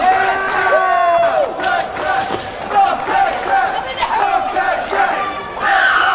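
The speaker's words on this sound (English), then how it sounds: "Jack kicks the light tubes as the crowd chants his name" A wrestling crowd at a Cabin Fever deathmatch chants a wrestler's name in loud, rhythmic unison, with shouts and cheers rising over the constant roar of the arena.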